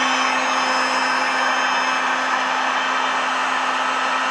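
Heat gun blowing hot air onto a part of a Peugeot 125 scooter, a loud, steady whooshing roar with a constant motor whine, close and unbroken with no talk.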